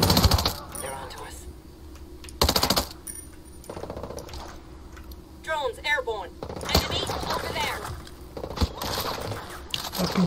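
Gunfire in Ghost Recon Breakpoint, a tactical military shooter: scattered sharp shots and short bursts ring out among the game's ambient noise while someone talks at points.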